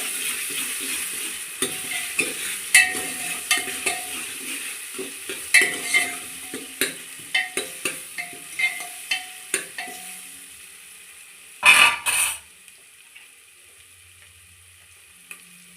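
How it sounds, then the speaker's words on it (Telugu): Onions frying with ginger-garlic paste in a pan for a goat head curry, a steady close sizzle broken by repeated scraping stirs of a spoon, with a brief louder clatter near the end. "ఒక స్పూన్ అల్లం వెల్లుల్లి పేస్ట్ వేసుకోవాలి ఇది పచ్చివాసన పోయే వరకు ఇలా గోలించుకోవాలి"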